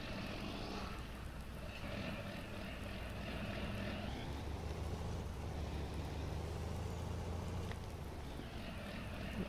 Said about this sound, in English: Let me get in the tractor. There we go.